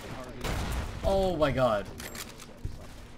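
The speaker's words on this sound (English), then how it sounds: "I keep shooting at a corpse." Gunfire in a Fallout video game crackles in short bursts, with someone talking excitedly over the shots.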